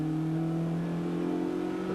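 A Group N race car engine howls at high revs on the Silverstone circuit, a sustained loud whine holding nearly steady pitch with a slight dip partway through, heard alone without speech.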